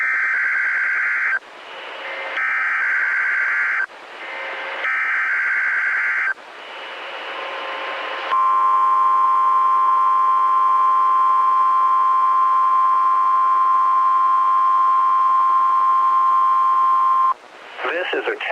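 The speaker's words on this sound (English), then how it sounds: "This is a test of the National Weather Service's radio warning tone alarm" National Weather Service radio warning tone alarm: several short bursts of data-like buzzing tones, then a long loud steady electronic tone sustained for about nine seconds, with a brief burst after it.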